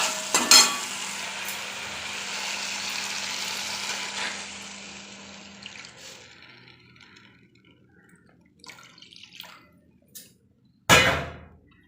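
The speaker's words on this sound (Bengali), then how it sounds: "এবার আমি জল দিয়ে দেবো।" Water poured into taro and spice paste frying in a pan for a Bengali hilsa fish curry with taro and eggplant, a loud sizzling rush that gradually fades, followed by a few scattered clangs of utensils and a sharp clink near the end.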